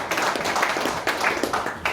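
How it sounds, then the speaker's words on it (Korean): An audience at a forum lecture applauds, a brief burst of many hands clapping with slight swells, moderately loud. "박수 좀 줘봅시다."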